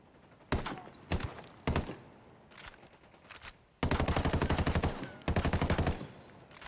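Gunfire in the Ghost Recon Wildlands video game, with scattered single shots and short bursts at first, then two longer rapid automatic volleys, loud and close.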